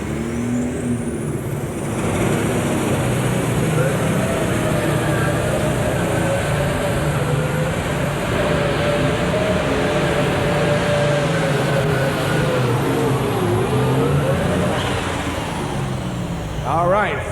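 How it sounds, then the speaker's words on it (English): A light super stock International 3088 alcohol tractor makes a pulling run at a tractor pull in Louisville, Kentucky, its loud, sustained engine roar rising and holding across the run while an announcer talks over it. "The 3088 International Alcohol Tractor, as he's made his run here."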